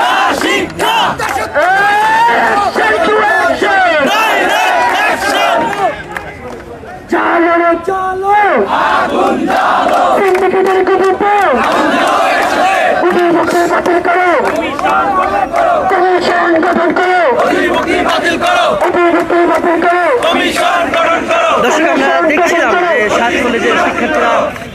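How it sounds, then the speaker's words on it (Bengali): Protesting students from seven colleges chant slogans loudly in unison, a dense crowd roar with rhythmic call-and-response shouting that drops briefly around the middle and then surges back. "স্লোগান চলবে স্লোগান"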